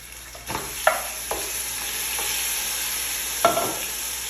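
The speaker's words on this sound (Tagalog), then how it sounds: "At ngayon i-add ko na itong meat." Meat sizzles in a pan with ginger and garlic. A constant hiss of frying plays close by, and a handful of sharp scraping stirs break through it.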